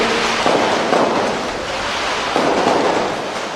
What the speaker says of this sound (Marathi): हे विजयाचे फटाके आज केला होते